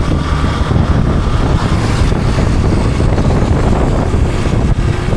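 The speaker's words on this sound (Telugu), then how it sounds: "ఇక్కడ గాలి అయితే చాలా ఎక్కువ ఉంది" Strong wind roars and buffets the microphone in a loud, continuous rush with no pauses, near Turtuk village by the India-Pakistan border; no voices are heard.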